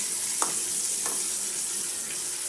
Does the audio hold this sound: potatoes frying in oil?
yes